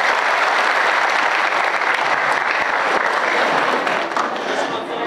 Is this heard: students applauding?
yes